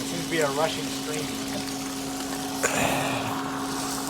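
Water gushes steadily from a leak into the excavation of a Nudura ICF concrete pool build, a continuous broadband rush with a constant low hum underneath and a brief voice near the start.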